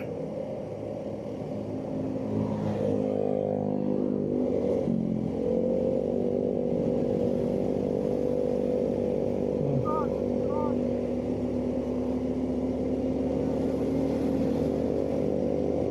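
A Suzuki V-Strom 250SX motorcycle engine labors steadily while climbing a hill in third gear, a loud continuous drone that stays close throughout, with a voice briefly talking over it.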